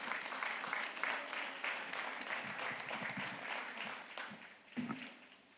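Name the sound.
applause at a graduation ceremony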